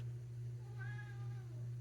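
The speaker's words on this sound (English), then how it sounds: "Well, by crying, I mean meowing." An old cat meows once, a drawn-out wavering cry heard close over a constant low electrical hum.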